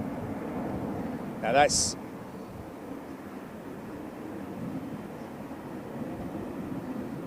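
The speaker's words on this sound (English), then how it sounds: "747. And liftoff." A Boeing 747 lifts off at London Heathrow Airport, a distant, steady jet roar rumbling beneath nearby voices chatting, with a brief sharper noise early on.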